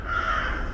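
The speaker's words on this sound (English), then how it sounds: "crow disturbance" A single crow gives a sustained, rough caw, close and fairly loud over a low background rumble.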